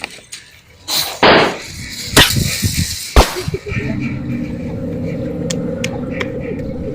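Sharp gunshot cracks ring out in a comedy skit, a couple of loud bangs spaced about a second apart followed by a steady low hum, with no talk over them.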